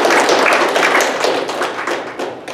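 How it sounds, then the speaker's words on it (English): A live audience at a talk on wealth breaks into loud, dense applause, with steady rapid clapping filling the room. "Give a big round of applause"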